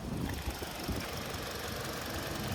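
A 2024 Hyundai Sonata SEL Convenience with a 2.5-liter naturally aspirated four-cylinder runs as a steady, rough, mid-pitched engine drone with a faint knocking texture throughout, heard from inside the car.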